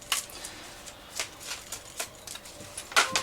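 A deck of sacred sites cards is shuffled up close, with repeated riffling bursts of card flicks spread across the clip and no talking.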